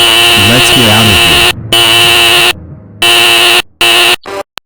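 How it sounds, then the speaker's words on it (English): A loud electronic alarm blares in a house, a harsh buzzing tone broken into bursts with abrupt silent gaps, alongside a warbling tonal sound. "I hear the fire alarm and smell fire."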